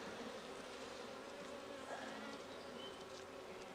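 Honey bees swarm and buzz around an opened hive after being smoked, during a brood box inspection of a nuc or package hive, a steady dense drone filling the space close by without pause.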